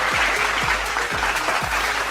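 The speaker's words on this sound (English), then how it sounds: "Give them a nice round of applause." Dense applause from a studio or event audience fills the stretch steadily, with a low recurring thump pulsing underneath about every half second; no voices stand out.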